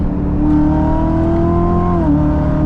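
Close interior engine note of a 700 horsepower Corvette track car accelerating, a strong steady roar holding pitch before dropping briefly as it shifts, with no talking.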